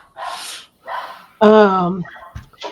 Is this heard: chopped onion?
no